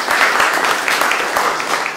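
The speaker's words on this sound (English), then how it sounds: "Let's give them a little round of applause here." A round of applause from an audience at a Wagner Society opera panel discussion, steady dense clapping throughout, fairly loud and close.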